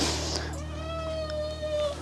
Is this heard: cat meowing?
yes